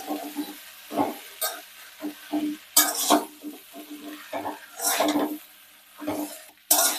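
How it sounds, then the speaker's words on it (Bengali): Spoon stirring Malabar spinach into a spiced fish curry in a pan, with repeated scraping and clattering strokes and some light sizzle, in irregular bursts. "এবার আমি পুঁই শাকগুলো দিয়ে দেব। সবগুলো দিয়ে দিলাম, ভালো করে মিশিয়ে নেব।"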